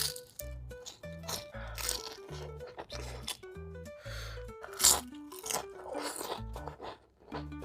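Crunchy bites and chewing of a super jumbo crab rangoon roll come through up close, a steady series of crisp crunches and wet mastication.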